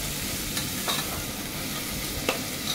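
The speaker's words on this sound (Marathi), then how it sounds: "टोमॅटो पण छान कांद्यामध्ये मिक्स करायचा आहे" Tomato is stirred into browned onions frying in a pan while cooking a spicy prawn rice dish. A soft, steady sizzle carries a few faint scraping stirs, quiet and close, with no talk.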